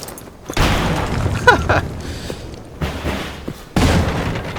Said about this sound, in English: I threw the grenade to save myself time here to open up this thing